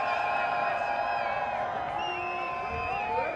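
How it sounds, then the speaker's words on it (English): Spectators in the stands at the 2018 Windmill mixed ultimate frisbee final cheer and whoop continuously, a dense roar of many voices with rising shouts over a high, ringing background. "The crowd lifting."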